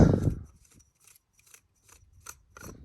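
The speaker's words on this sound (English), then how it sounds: "And then you can unscrew the other side." A lightsaber hilt part being unscrewed by hand, with a brief rub at the start followed by a series of faint, dry clicking and scraping twists close to the microphone.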